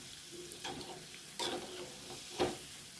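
Cauliflower pakoda frying in oil on a low flame, a faint, soft sizzle with a few brief stirring scrapes and clinks, no voices.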